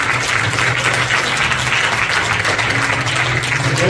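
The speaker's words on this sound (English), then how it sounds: "We want to give everybody a round of applause." Church audience applauding during a scholarship program, a dense, steady wash of clapping filling the room from start to finish with no pauses.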